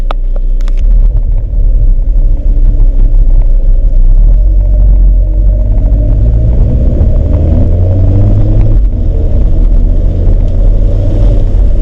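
An Alfa Romeo 4C driving with the roof off, giving a loud, continuous low engine rumble and road roar, with wind noise throughout and no talking.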